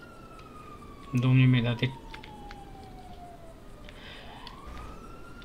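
A police siren in the FiveM GTA game wails in a slow falling-then-rising sweep, moderately distant, while someone speaks briefly near the start.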